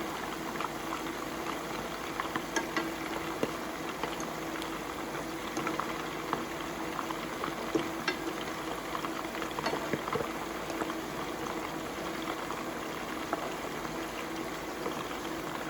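Homemade meatballs fry steadily in hot olive oil, giving a continuous close sizzle with scattered small pops and crackles throughout, no voices.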